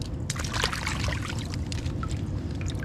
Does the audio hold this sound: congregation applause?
no